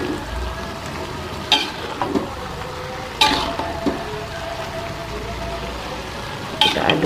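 Spicy banana blossom stir-fry being stirred in a pan, with a steady close sizzle of frying and occasional sharp scrapes and clinks of the utensil against the pan, with no talking.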